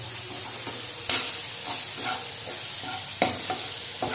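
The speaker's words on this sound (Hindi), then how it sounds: "मसाले अच्छे से भून रहे हैं।" Spices sizzle and fry steadily in a pan while stuffed bitter gourd (karela) is prepared, with a few sharp scrapes and clinks of stirring over the constant hiss, close and alone.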